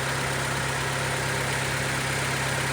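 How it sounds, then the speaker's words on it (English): A 1996–2000 Honda Civic engine idling at about 1200 RPM, not yet fully warm, with a steady, even hum and a low mechanical drone, close by and unbroken. "we are idled down to about 1200 RPM"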